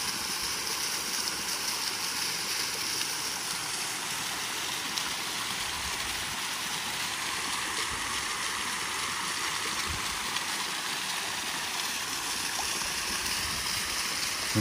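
Mountain forest stream on Núi Cấm flowing steadily, a continuous broad rush of water close by with no break and no talk.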